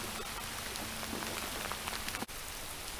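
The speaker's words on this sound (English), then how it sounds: "It's raining cats and dogs." Heavy rain pours onto the Feather River near Yuba City, California, a dense, steady patter of drops spread across the whole scene, constant and close, with no talking.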